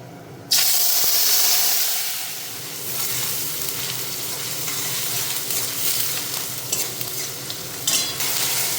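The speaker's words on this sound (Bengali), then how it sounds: "এই পেঁয়াজটা এখন আমি দিয়ে দিচ্ছি" Grated onion hits hot oil with a sudden loud sizzle that settles into a steady, hissing fry, with occasional scraping stirs.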